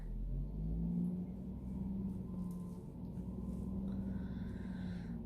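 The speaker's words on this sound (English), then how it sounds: "Hope y'all can't hear all these big trucks out there." Big trucks pass outside as a steady low rumble and engine drone, heard faintly from indoors and holding at a constant level with no speech.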